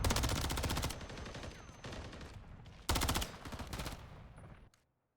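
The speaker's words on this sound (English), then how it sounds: "LD firing a bunch of warning shots into some concrete and then getting shot in the back." Rapid bursts of automatic gunfire from warning shots fired into concrete in Call of Duty, two loud volleys with quieter shots between them, ending abruptly in silence.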